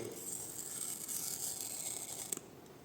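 A blade sharpened on a natural whetstone, giving a soft, gritty crunching rasp of steady strokes up close at low volume, ending with a small click.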